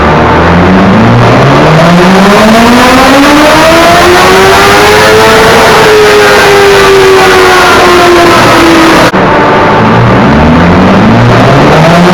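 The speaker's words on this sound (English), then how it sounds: "The exhaust that he fitted is stock headers that have been ceramic coated, and then he's put on a carbon Yoshi." A 2012 Honda CBR1000 with ceramic-coated stock headers and a carbon Yoshimura exhaust revs hard and close, its loud engine note climbing smoothly, holding high and then falling away, with a sharp break before it climbs again.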